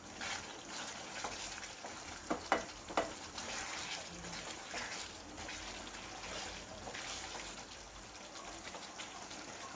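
Chicken ghee roast, Mangalore style, frying in ghee in a pan over raised flame, giving a quiet, steady sizzle with a few sharp stirring clinks near the start.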